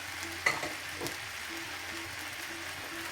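Panang chicken stir fry sizzles steadily in a hot pan as lime juice goes in, a continuous frying hiss with a few sharper spits and clinks early on.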